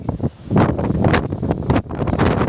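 Strong gusts buffet the microphone in loud, uneven rumbling bursts, roaring and dropping back repeatedly with no voices present.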